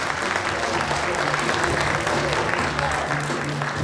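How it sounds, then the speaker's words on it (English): An audience at an elementary school community event applauds third grade students, thick continuous clapping with cheering voices and chatter mixed in, loud and sustained from start to finish. "How about another big round of applause for our third graders?"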